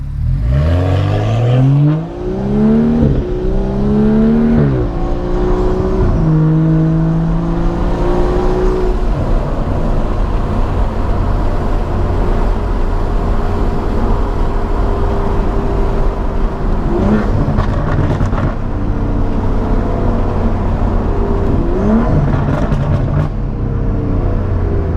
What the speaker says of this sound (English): those burbles are pretty aggressive.